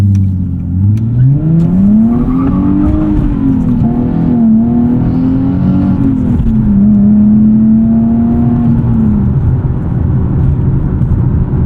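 A 2012 Nissan 370Z with a six-speed manual and rev matching: a loud, close engine note climbs sharply, holds a high droning rev for several seconds, then drops away toward the end, with no voices.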